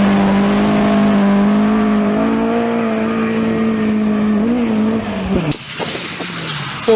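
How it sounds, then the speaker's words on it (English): A Mark I Escort rally car, under 1600cc, powers along a forest stage, its engine holding a steady loud note with gear-shift pitch changes before cutting off abruptly near the end. "Another different car to the hordes of Mark II Escorts, Richard Newman's Mark I"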